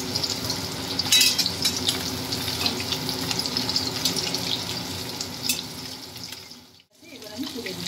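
Pieces of katla fish frying in a pan over high flame, a continuous bubbling sizzle with crackles, briefly dropping away near the end before resuming.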